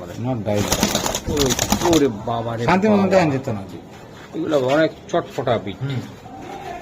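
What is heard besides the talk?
pigeons cooing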